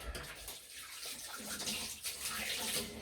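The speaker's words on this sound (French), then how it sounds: "On lave les mimines." Tap water runs steadily over hands being rinsed at a kitchen sink while cooking, a continuous close splashing hiss throughout.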